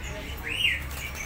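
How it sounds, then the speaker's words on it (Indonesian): A Sri Kantil songbird gives a single short, high rising-and-falling chirp over a low background hum, fairly close and alone. "Ini ada Sri Kantil"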